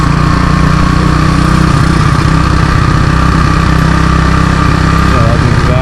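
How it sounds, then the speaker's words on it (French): A motorcycle engine on a mountain road in Vietnam drones loudly and continuously up close, labouring under strain as if needing a gear change, with steady rumble and no pause. "Et là on entend mon moteur qui râle parce qu'il est pas content"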